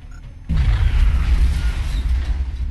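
A frag grenade detonates in the XCOM Long War strategy game, a sudden heavy boom after a brief quiet lead-in, followed by a rumbling, crackling tail that lingers loud to the end.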